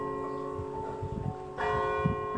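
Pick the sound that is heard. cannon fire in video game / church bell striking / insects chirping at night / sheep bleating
church bell striking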